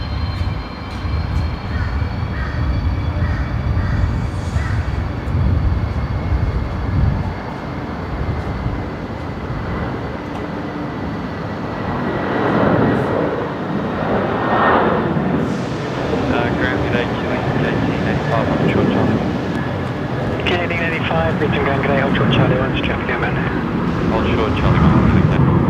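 A Western Global Boeing 747 lands on runway 19 right at Brisbane Airport, a loud, steady broadband roar that swells and lingers for the whole stretch, with radio chatter and voices audible beneath it.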